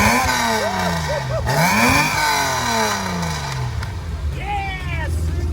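A Nissan Datsun Fairlady Z sports car engine turns over and revs, rising and falling pitch sweeping through several blips, fairly loud and close with people talking over it.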